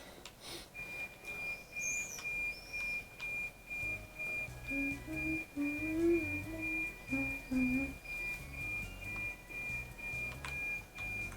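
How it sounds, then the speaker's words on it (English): In a video game, a thin, high electronic beep sustains steadily over soft chirps and whistling tones, faint and quiet beneath low background sounds. "What's that beeping sound?"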